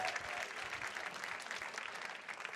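A school community event audience gives a continuous round of clapping, fairly faint and distant, holding steady from start to finish with no voices on top.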